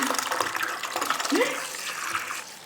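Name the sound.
water from a tap running onto a bath toy fish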